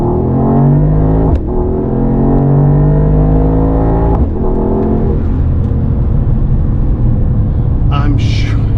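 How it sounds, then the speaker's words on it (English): Deep, continuous engine rumble from a Mercedes-AMG GT55 V8 on the move, heard from inside the cabin with strong low harmonics that swell and shift through gear changes, loud and steady throughout. "now there's just this rumbling underneath me"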